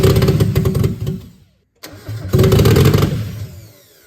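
A Mazda Miata's 1.6 four-cylinder engine cranks and fires, stalls briefly into silence, then cranks again and catches with a loud, close rumble that settles toward idle.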